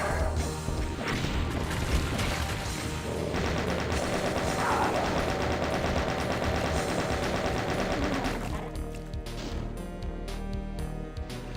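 Explosions and combat from the Doom megawad Eviternity, a loud dense wash of blasts, crashes and rapid impacts over music that drops away near the end.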